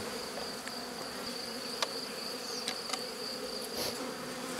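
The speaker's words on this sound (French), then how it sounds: "il y a des abeilles" Honeybees hum steadily inside an opened hive during a beekeeper's check of nucleus colonies, a dense continuous buzz with a few individual bees zipping close past now and then.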